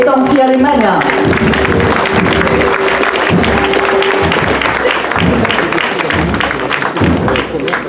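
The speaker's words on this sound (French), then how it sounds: "Merci d'applaudir les Fratres Militae Templi Alemania." An outdoor crowd at a torchlit procession in Biot applauds steadily for several seconds, dense clapping mixed with crowd noise and a brief tonal sound near the start.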